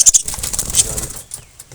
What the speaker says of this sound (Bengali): পাখিটা জল খেতে চলে এলো